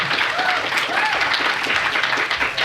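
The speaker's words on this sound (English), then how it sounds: "please give a round of applause for our guest, Sam Rosenthal." An audience at an NYU Game Center lecture applauds a guest speaker with sustained, dense clapping that fills the room, and a voice briefly rises over it.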